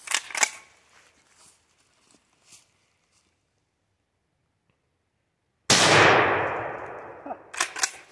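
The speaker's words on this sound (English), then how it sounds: "Let's shoot the pumpkin. These are all 12 gauge shells" A nickel-plated Rock Island Armory 12 gauge shotgun fires a single loud, close blast at a pumpkin, with a long rolling decay afterward, following several seconds of quiet handling clicks.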